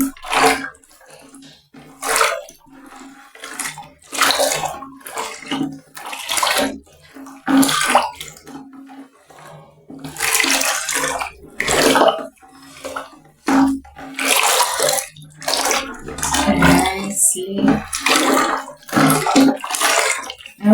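Water is poured in repeated short splashing bursts with pauses between them while mixing homemade bleach disinfectant, loud and close, alongside occasional knocks of a container.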